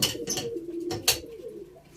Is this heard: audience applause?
no